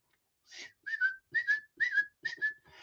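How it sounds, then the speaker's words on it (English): Someone whistles through the teeth to call a gundog, giving a series of five short, sharp two-note whistles in a quick rhythm, close and clear against silence. "I can whistle through my teeth or my tongue"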